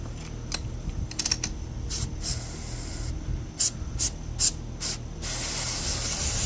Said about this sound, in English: Spritz it down with some electric cleaner.